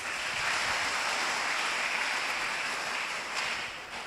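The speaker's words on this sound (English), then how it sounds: "please give a round of applause for Icsspeh University" Applause from a conference audience for Icsspeh University at the opening of ICSSPEH 2024, a steady dense wash of many hands clapping that holds evenly throughout, then eases slightly at the end.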